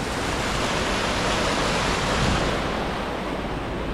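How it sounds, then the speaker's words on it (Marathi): Steady, dense rush of water beside a rough road near Pandavkada waterfall in Kharghar, a continuous broadband roar that holds level throughout with no voices. "बाजूला नदी आहे की पावसाचं पाणी साचलं काय माहिती नाही"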